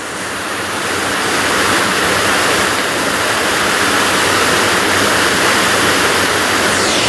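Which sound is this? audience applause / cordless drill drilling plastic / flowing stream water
flowing stream water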